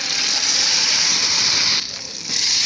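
A steady, loud hiss of thick cooked dal poured into hot oil tempering, briefly dipping before rising again, with no voices.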